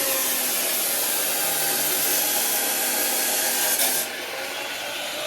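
Steel rods being cut on a house construction site to make lintel rings, a steady loud abrasive grinding that runs continuously and drops slightly in level near the end, with no talking.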